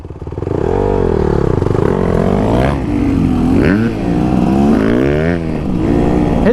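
A 2024 Beta Xtrainer dirt bike ridden off-road, its engine close and loud, revving and rising and falling in pitch through throttle changes over several seconds, with no talk.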